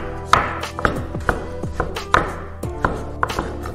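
Peeled potatoes being cut into cubes on a board with a knife, a series of sharp, close chops at an uneven rhythm with short pauses between strokes, no voices.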